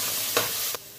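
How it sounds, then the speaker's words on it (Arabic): Garlic and chili paste frying in a pan give a steady sizzle, broken by two brief scraping presses of a masher spoon. "هنزل بمعلقه الهرس في الشطه والثوم بالشكل ده"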